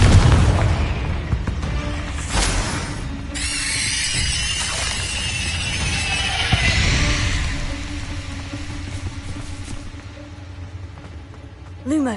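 A Confringo fire spell explodes in Hogwarts Legacy, a loud booming blast with crackling, rumbling tail and bright whooshing bursts that fade over several seconds, close and dominant.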